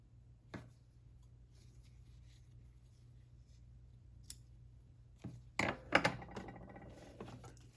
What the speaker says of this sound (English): Let's trim off all of our loose ends.